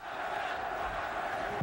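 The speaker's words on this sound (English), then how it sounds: "Now the crowd begins to implore Tyson." Boxing arena crowd roaring and shouting as it urges on Mike Tyson during his fight with Tillis, a dense, steady wall of massed voices at constant loudness throughout.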